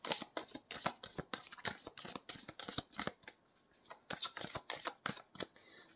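A deck of Lenormand oracle cards is shuffled and drawn, producing rapid, rhythmic riffling snaps and flicks close up, with a brief pause partway through.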